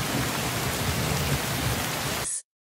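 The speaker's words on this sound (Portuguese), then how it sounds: "a chuva forte batendo contra a janela" Heavy rain beats against a window in a dense, steady hiss that holds evenly for over two seconds, then cuts off abruptly.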